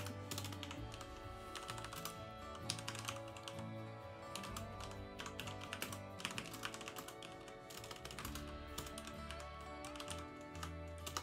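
Rapid clicking of a computer keyboard being typed on, steady bursts of key taps running continuously at close range over quiet background music.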